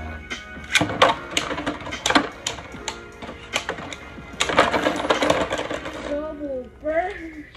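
Hasbro and pro series Beyblade spinning tops clash in a stadium, giving sharp metallic clicks and rattling impacts in quick bursts, close and loud, followed by brief vocal sounds near the end.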